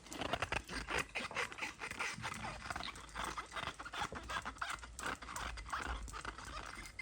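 Squeaky rubbing of a clean dish after washing with homemade coconut oil solid soap, repeated short squeals and scrapes close by, fairly quiet.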